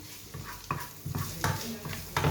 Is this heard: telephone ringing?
no